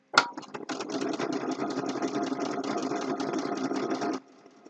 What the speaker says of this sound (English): just stitch along at a moderate rate. Faster sewing doesn't make better sewing.